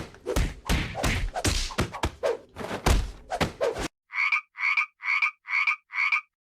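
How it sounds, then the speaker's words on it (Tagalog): A burst of irregular thuds and slaps gives way to five evenly spaced, loud croaks in a steady rhythm, set in an animated scene of frogs falling from the sky. "Nahuhulog ang mga palaka mula sa langit."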